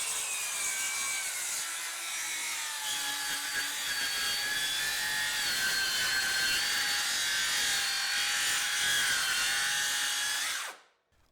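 A battery-powered circular saw rips straight down through a treated 6x6 timber with a continuous high, whining cutting tone whose pitch sags slightly as the blade bogs. It winds down abruptly at the end, with no speech.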